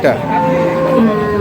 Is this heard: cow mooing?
yes